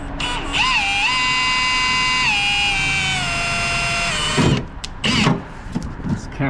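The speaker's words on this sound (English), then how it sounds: "Using a smaller drill bit here to start with." A power drill with a small bit whines steadily at close range, its pitch dipping as it bites into the metal of a Ford Transit Connect van, then stops, followed by clattering and handling noises.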